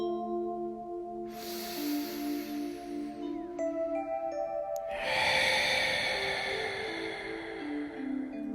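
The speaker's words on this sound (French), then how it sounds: "Inspirez." Slow, deep inhalations during a guided meditation, two long airy breaths drawn in over soft sustained background music, close and fairly quiet.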